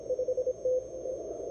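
Morse code CW from a US amateur radio station calling during a DX contest, a steady sidetone tone keyed in short dits and one longer dah, then fading into band noise and hiss.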